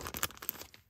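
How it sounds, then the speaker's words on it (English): A small plastic bag crinkles and rustles in a quick, close burst of crackly handling noise as an item is slipped inside while packing a toy order, fading out briefly near the end. "Just gonna set this inside this little plastic bag."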